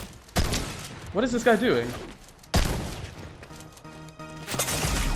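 Sharp gunfire cracks in Fortnite Chapter 5 hit twice around a player's spoken remark, with loud broadband bursts and a burst of gameplay noise near the end.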